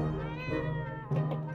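A cat meows twice in the survival video game 60 Seconds, two clear, close, drawn-out cries with no talking over them.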